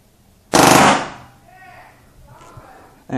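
An E1 paintball gun on full auto lets off one loud, rapid burst of shots that trails off, then a faint voice follows before another sharp onset right at the end.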